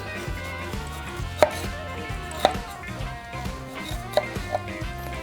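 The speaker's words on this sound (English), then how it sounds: "I got a thumb-sized ginger here, cubing it first a little bit" A kitchen knife cubing a thumb-sized piece of fresh ginger on a cutting board, a few sharp separate chops against a board spaced about a second apart, close and clear over a light background.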